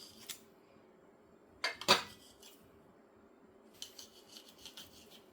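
Paratha dough being cut into equal portions in a home kitchen, heard as a few soft, quiet cutting and knife-tapping sounds, with two sharper clustered clicks near the middle and a run of light scraping near the end.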